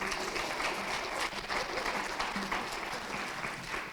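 An audience at a debate on carbon markets in Kenya applauds, with dense sustained clapping from many hands filling the room at steady volume for several seconds.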